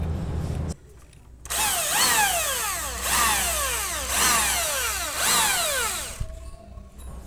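Bosch GSB 550 corded drill with a 9 mm masonry bit spinning freely, loud and close, revving up and down in several repeated whining surges before cutting off.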